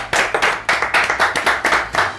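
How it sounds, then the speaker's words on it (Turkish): A studio audience on a Turkish cooking competition show claps in a quick, distinct rhythm, about a dozen sharp unified claps close and loud. "Bir alkış alalım."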